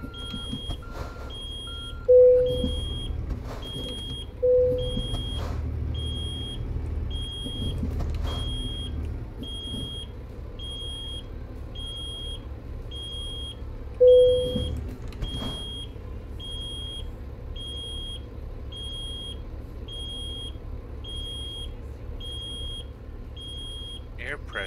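Low air pressure warning alarm in a truck in the video game Heavy Hauls, a thin, high, steady beeping tone sounding continuously over an idling engine hum, with a few louder knocks and clicks in between.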